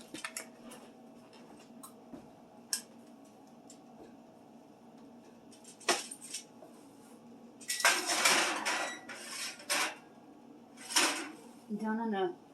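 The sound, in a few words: bacon tray put into preheated oven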